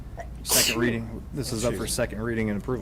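A single sharp sneeze bursts out loudly and close during a school board meeting, immediately followed by ongoing speech from a person at the meeting.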